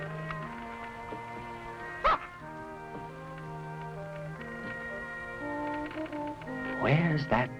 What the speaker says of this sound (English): Where's that dog?